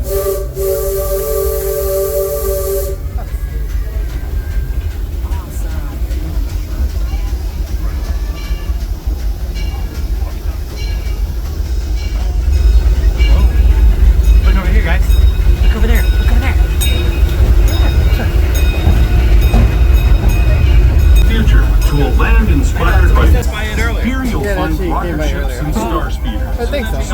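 Disneyland Railroad steam locomotive Ernest S. Marsh pulling excursion cars, heard from aboard: a loud steam whistle blast opens, then a steady rumbling, clattering run grows louder and continues to the end.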